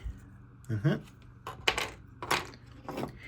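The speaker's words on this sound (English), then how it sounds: "So we'll go and fold these down." Plastic pieces of a DNA Design DK-69R Max Sword upgrade kit for a model are folded down, giving a few sharp, close clicks and light taps spread across a quiet indoor background.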